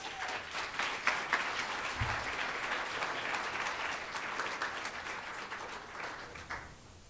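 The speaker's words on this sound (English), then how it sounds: "Let's give him a round of applause." Audience applause at a school cultural program, a steady wash of many hands clapping at moderate distance, sustained for several seconds before tapering slightly at the end.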